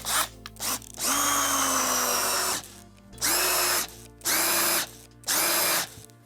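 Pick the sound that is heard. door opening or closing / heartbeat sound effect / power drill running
power drill running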